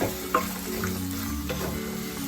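Chow chow (chayote) and tomato chutney ingredients being stirred in a hot pan, a close, even frying hiss with a couple of sharp scrapes and knocks from the spoon near the start.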